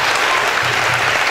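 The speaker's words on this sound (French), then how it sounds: "Applaudissez pour vous." An audience claps together at an event for an orientation and documentation centre in Benin, a thick, steady wash of loud applause holding throughout.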